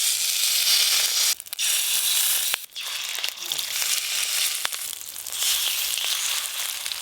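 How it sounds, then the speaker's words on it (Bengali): Fish roe fritters sizzle loudly in hot oil in a pan, a dense continuous hiss broken by a few sharp crackles and brief dips. "তার আগে মাছের ডিমগুলো বড়ার আকারে ভেজে নেব"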